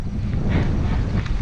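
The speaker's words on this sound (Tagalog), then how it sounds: "Medyo parusa lang dahil sobrang lakas talaga ng hangin." Strong headwind roars across the microphone while riding a bicycle on a loop route, a dense, continuous low rumble with slight gusting swells throughout.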